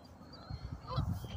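Geese honk at a reservoir in a short, faint flurry of overlapping calls from some distance, with a person's voice faintly audible alongside.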